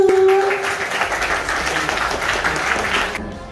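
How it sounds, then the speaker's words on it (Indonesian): A school audience at a student outreach session on stunting claps for a moment, fairly close and steady. A brief tone sounds at the start, and the applause cuts off near the end. "Tepuk tangan dulu."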